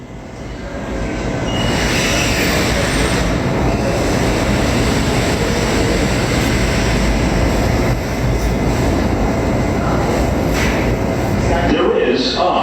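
A New York subway train rumbles loudly and continuously, with a dense roar of wheels on track and occasional metallic squeals near the end.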